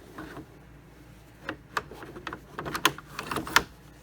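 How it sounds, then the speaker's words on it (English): A hoop clicking into place on a PFAFF embroidery machine, heard as a few sharp plastic clicks and taps near the end, close and fairly loud over faint handling noise. "You hear the clip, so it's ready."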